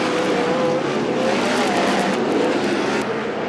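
Race cars roar around King Speedway in a loud, unbroken wall of engine noise. A thin, high engine whine rises and falls above the rumble as the cars haul through the corners.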